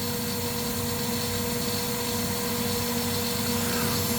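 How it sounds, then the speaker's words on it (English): A CNC machine countersinks previously drilled holes in an enclosure, giving a steady, continuous whine with a strong constant hum and tonal overtones that holds evenly throughout. "And we countersink those holes we drilled before to make them easier to tap later on."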